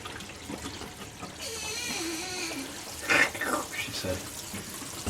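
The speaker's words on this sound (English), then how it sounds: "I see the water coming down through the pipe there" Water draining from a new kitchen sink down through the pipe, a gurgling rush with a brief louder gush partway through, heard close against a quiet background.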